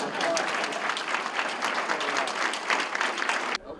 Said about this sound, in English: So let's give him a big applause.